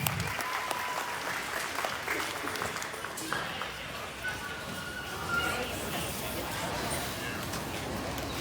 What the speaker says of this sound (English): Let's give these young people a nice round of applause as they take them back.